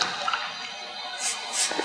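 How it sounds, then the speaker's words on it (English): Clean water rinses fabric soap out of a fabric auto gele (pre-tied head tie): a steady, soft hiss of running water with a few faint drips and splashes, and no talking. "So I'm using a clean water now to remove the fabric soap which I had used earlier on."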